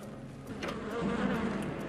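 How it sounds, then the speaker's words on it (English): Bees in a mock laboratory setup for a killer-bee prank give off a steady, low buzzing drone that swells slightly midway and continues throughout. "Why did you put the bees in?"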